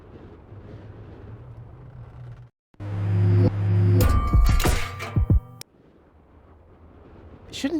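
An explosion in the video game Deponia: a heavy rumbling blast builds after a short silence, with metallic clangs and debris hits, then cuts off abruptly to quiet background.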